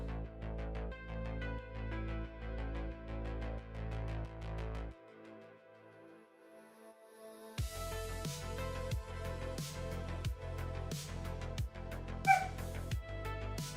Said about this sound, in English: My dog is pissed off.